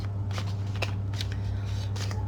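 Cards shuffled softly in a series of quick papery flicks and taps over a steady low hum, close and fairly quiet.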